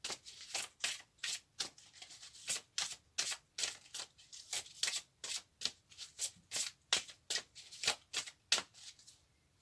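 Playing cards being shuffled by hand, a quick run of crisp, rhythmic riffling bursts, about two per second, close and fairly quiet, with no talking.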